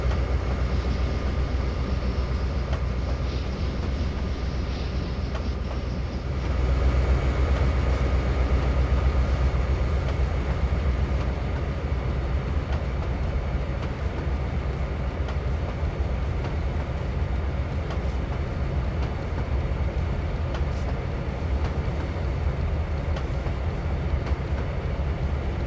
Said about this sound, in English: now we have the eastbound taking the restricted signal on its way into Kingston Yard.